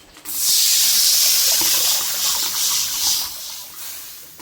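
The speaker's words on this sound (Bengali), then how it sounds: "জলটা টকবক করে ফুটছে" Hot water in a kadai with fried shing fish makes a loud, close hissing, bubbling rush that swells quickly, holds for about three seconds, then fades.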